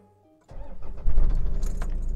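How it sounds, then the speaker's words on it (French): A car engine cranks briskly and catches on a JFEGWO 3000A jump starter booster after a brief click, then settles into a loud, close idle. "deuxième démarrage et on voit que le démarreur est très vif pendant le démarrage"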